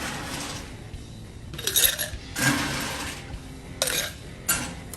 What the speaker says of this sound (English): next, we will add ice into our glass